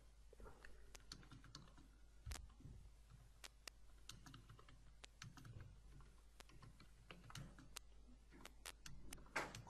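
Message being typed on a PC or laptop keyboard, a quiet, close run of irregular key clicks and taps with brief pauses between bursts.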